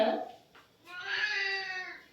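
A domestic cat meows indoors, a short first call followed by a longer drawn-out wail, close and fairly clear, with no talk over it.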